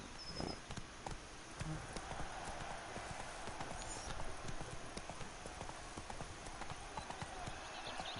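Hooves of the horse Roach in The Witcher 3, a fast rhythmic clip-clop of galloping hooves, continuous and fairly quiet throughout.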